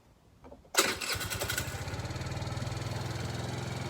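A TaoTao 50cc scooter engine is cranked and catches at once, settling into a steady, loud, rapid putter close by with no talk over it.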